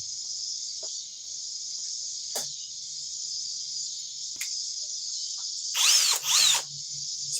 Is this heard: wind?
no